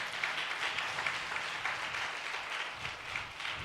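A church congregation clapping hands together in praise, a soft, fairly distant patter of many overlapping claps holding steady without pause.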